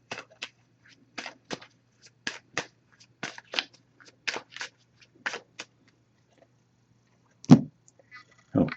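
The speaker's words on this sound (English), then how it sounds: "I'm going to give this a few shuffles." Oracle cards from a Messages of Love deck being shuffled by hand: a run of quick, crisp riffling bursts in an uneven rhythm, close and fairly quiet, then a pause and a couple of louder handling thumps.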